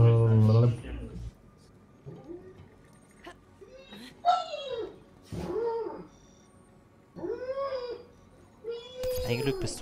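A dog whimpers and howls in the video game Oaklands, giving a series of drawn-out, rising and falling whining cries spaced across the clip with quieter gaps between them.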